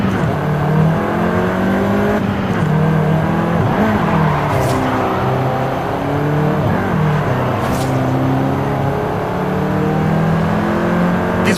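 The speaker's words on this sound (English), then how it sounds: "This version is the Volkswagen Golf R," Volkswagen Golf R engine driving in Forza Horizon 5, a steady loud motor note rising and falling through gear changes with a constant tire and road rush beneath, continuous throughout.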